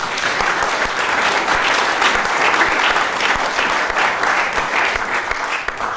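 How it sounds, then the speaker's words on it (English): Steady applause from a lecture audience, loud and dense, filling the whole stretch without letting up and with no talk over it. "you can applaud this one if you want"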